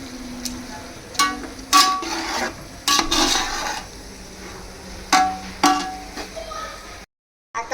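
Onion being stirred into a cooking pot for homemade prawn biryani, heard as a series of close scraping and clinking strokes of a spoon against the metal pot, spaced irregularly with pauses between, ending in a brief silence.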